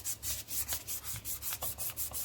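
Hand sanding of a polymer clay bowl, a quiet rhythmic back-and-forth rasping stroke repeated about ten times in quick, even succession.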